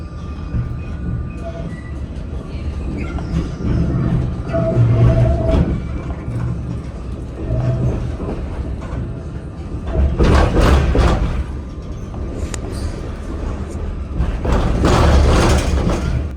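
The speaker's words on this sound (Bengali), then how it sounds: "আমরা ট্রামে করে এখন যাচ্ছি আরেকটা স্টেশনে" A Barcelona tram runs along the rails with a steady low rumble and rattling. Louder swells of wheel and track noise come through in bursts, and faint hum and mechanical clicks carry throughout.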